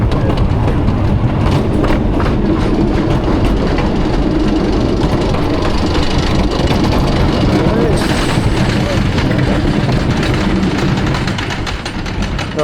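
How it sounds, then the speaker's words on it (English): A Millennium Flyer roller coaster train, Tomahawk at PortAventura, climbs its lift hill slowly, with loud continuous rattling and clicking, a close mechanical clatter and wind noise throughout. "A little bit slower on the lift hill, just while waiting for the other train to clear."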